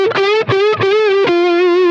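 Electric guitar on a humbucker pickup with the tone control at maximum plays a brief sustained melody of several notes through distortion and chorus-like effects, loud and close, no voices.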